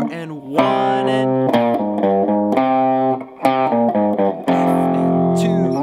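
Distorted electric guitar plays the second half of a solo, with sustained, singing melodic notes and bends, loud and close with no talking.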